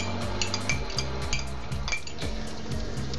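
Spoon clinks and scrapes rhythmically against a container while stirring an oil cleansing mixture, a quick series of close, bright taps and rattles with no talking.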